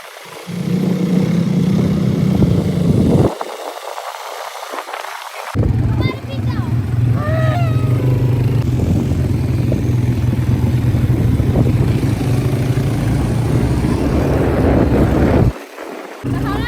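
A car being driven in Dubai holds a steady, loud low engine drone throughout, with people talking over it nearly all the time.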